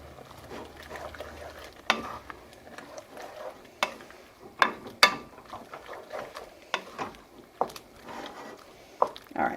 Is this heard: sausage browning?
yes